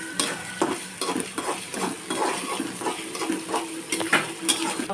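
Onion, garlic and dried red chillies fry in oil in a pan, a constant close sizzle broken by rhythmic stirring scrapes and light clinks of a utensil against the pan, with no talking.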